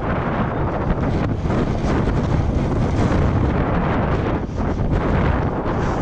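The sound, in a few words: wind noise in a snowstorm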